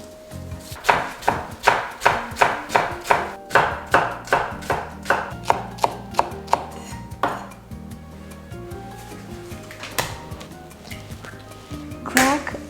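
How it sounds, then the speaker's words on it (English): A knife chops green onion on a cutting board in quick, regular strokes, a clear series of crisp thuds, then slower scattered taps. Background music plays under the chopping. "Chop the green onion."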